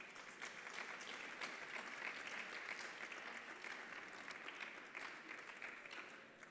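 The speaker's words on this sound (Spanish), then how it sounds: "les vamos a dar un aplauso" Steady applause from an audience at a round-table session on digital tools and AI in winegrowing, dense clapping sustained evenly throughout and slightly distant, with no talking over it.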